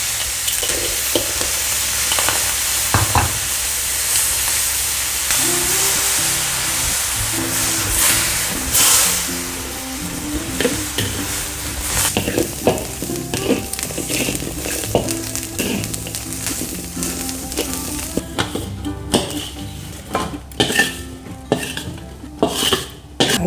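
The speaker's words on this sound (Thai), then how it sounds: "เราก็เอาพริกนะคะ หอมแดงแล้วก็กระเทียม มาคั่วนะคะ" Chilies, shallots and garlic dry-roasting in a pan give a steady close hiss and crackle, with occasional utensil scrapes and clinks against the pan as the mix is stirred.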